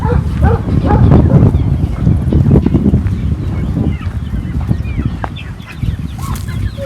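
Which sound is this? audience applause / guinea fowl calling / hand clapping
guinea fowl calling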